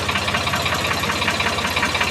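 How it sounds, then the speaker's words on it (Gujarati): A tractor engine runs with a rough, throbbing low rumble and rapid knocking pulses, steady and fairly loud in an outdoor rural setting after dark. "હવે ટ્રેક્ટર પાછું આવ્યું."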